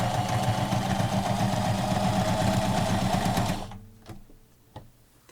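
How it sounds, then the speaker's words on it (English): A sewing machine runs in a fast, steady whir while stitching a fabric PPE mask, then stops abruptly partway through, leaving a few faint clicks and handling sounds. "we're going to finish sewing this, because apparently I didn't do that"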